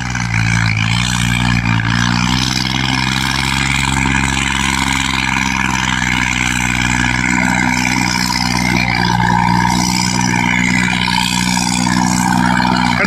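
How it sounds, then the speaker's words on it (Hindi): A tractor engine runs with a misfire, giving a loud, close, continuous mechanical drone with a steady low hum throughout. No one speaks over it. "भाई मेरा नहीं ट्रैक्टर मिसिंग ही मार रहा चल रहा है"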